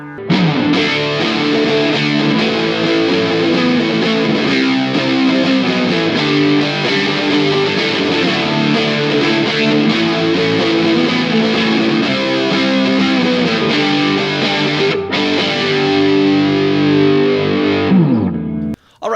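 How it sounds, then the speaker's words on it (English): Electric guitar played through an ENO Music Extreme series Gemini Chorus pedal, a thick, saturated tone with sustained chords and riffs, loud and continuous with no voices, stopping abruptly near the end. "the Gemini Chorus Pedal from the Extreme series from ENO Music"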